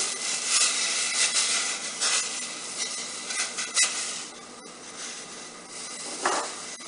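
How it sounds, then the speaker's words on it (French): Steady scraping and stirring of curry powder in a pot of simmering water over a soft, constant hiss, with a few louder scrapes along the way; no voices. "on va verser le curry dans l'eau frémissante"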